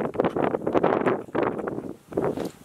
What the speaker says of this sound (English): I don't know what that wind's doing to this